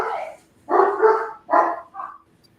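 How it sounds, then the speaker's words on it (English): Dogs indoors bark at noises outside in four quick, loud bursts. The last one is shorter and lighter, almost a yip, and then the room goes quiet. "they hear stuff outside and they just start a bark"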